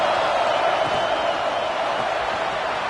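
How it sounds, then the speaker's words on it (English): A football stadium crowd roaring steadily for the Tennessee defense, a dense, loud, continuous wash of cheering with no breaks. "Listen to this crowd just shaking the girders of this place trying to help their defense."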